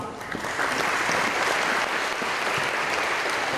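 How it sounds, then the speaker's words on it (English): Sustained, dense applause from a school assembly audience at a high school presentation, loud and continuous throughout with no voices over it. "Another round of applause."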